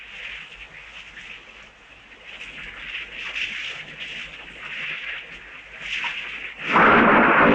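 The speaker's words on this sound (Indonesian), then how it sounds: "Guntur," A steady hiss like rain gives way to a sudden loud thunder crack near the end, close and heavy.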